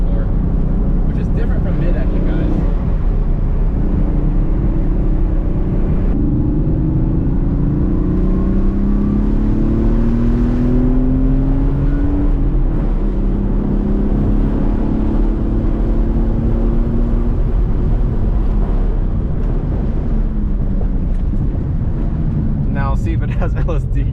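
A Porsche 964 RS America rear-engine sports car drives along, its engine droning loudly and rising and falling in pitch through gear changes, with talking over it at times.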